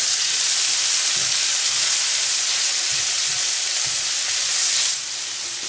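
Pork chops sizzle on a barbecue grill, a steady, close hiss of frying with faint crackles running throughout, easing slightly near the end.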